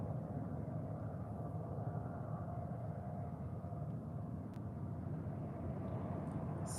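Steady broad low rumble of an airplane passing near an airport, continuous and moderately distant, with no voices over it.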